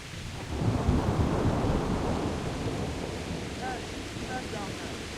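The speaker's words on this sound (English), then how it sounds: "God, that lightning." Rolling thunder in a lightning storm in the video game Kingdom Come Deliverance, a loud low rumble that swells early and slowly fades under steady rain and wind, with a faint voice-like tone near the end.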